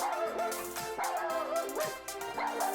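A cartoon puppy in the Toca Life World game gives a quick series of high, bright yips and little whimpering barks over steady background music, with no talking.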